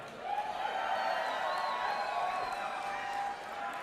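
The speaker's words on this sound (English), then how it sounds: "So, how many Rapha fans do we have in the crowd" A large esports grand finals crowd cheers and whoops in a sustained roar, with scattered clapping, fading slightly at the end.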